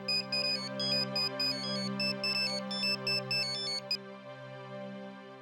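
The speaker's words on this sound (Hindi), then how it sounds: "फोन क्यों नहीं उठा रहे?" A phone ringtone plays a bright repeating melodic pattern loud and alone for about four seconds, then stops, leaving a sustained low tone underneath.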